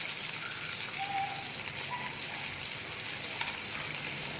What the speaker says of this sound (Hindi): पिस्ता और काजू ये डाल के इसे हमने फ्राई कर लेना है।